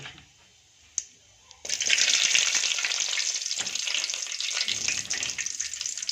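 Peanuts and curry leaves hit hot oil after the mustard seeds have crackled, and the pan breaks into a loud, steady sizzle. A few quiet clicks come first, then the frying runs on unbroken with no talk.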